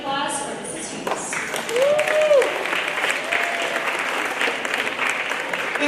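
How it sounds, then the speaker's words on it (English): An audience at a middle school awards ceremony breaks into sustained applause, a dense wash of clapping from many hands that swells slightly midway, with voices mixed in. "a big round of applause for Mrs. Hughes"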